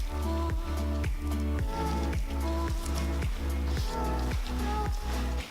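Water-based medical gel is scraped out of a beaker in about ten regular, squelching strokes, each a wet smear with a ringing tonal edge, close and fairly loud.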